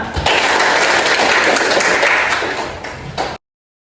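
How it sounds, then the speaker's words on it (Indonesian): Applause from a classroom of students during a teaching session, a dense burst of clapping that holds steady for about three seconds then cuts off abruptly. "Tepuk tangan."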